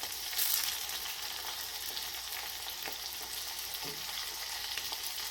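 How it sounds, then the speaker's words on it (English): Coconut-coated shrimp deep frying in oil, an even, continuous hissing sizzle with a brief louder splash at the start and a few faint taps underneath. "And these fry very quickly. So you want to have enough oil to cover them."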